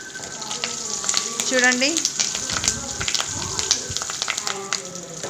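Cumin, mustard seeds, turmeric and spices sizzle and crackle in hot oil for a beerakaya pappu tempering, a close, busy frying hiss with seed pops, under brief speech.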